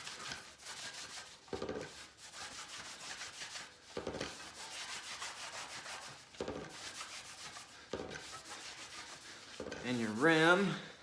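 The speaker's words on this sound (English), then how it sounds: "we just wipe the wheels down real quick. And clean your brake surface." Rag wiping bicycle wheels and rim brake surfaces, repeated close rubbing strokes in bursts with short pauses, a brief squeak near the end.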